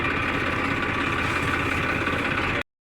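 A farm tractor's engine idles steadily, a loud, close, even diesel rumble that holds unchanged for a couple of seconds before cutting off abruptly into silence.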